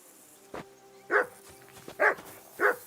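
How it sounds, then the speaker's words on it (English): Dog barking in the video game Kingdom Come: Deliverance II, a soft yip followed by three loud, close barks spaced about half a second to a second apart, with no talk over them. "that barking's driving me nuts"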